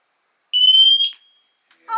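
An EchoAlert wireless smoke alarm gives one loud, piercing high-pitched beep lasting about half a second, close to the listener, then falls silent before a brief faint sound at the end.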